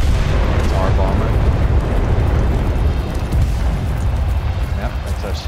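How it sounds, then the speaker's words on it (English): Heavy, continuous rumbling booms from Stuka dive-bomber bombs exploding in the Enlisted battle game, dense and loud throughout with voices talking over the blasts. "Yep, that's our Stuka up there."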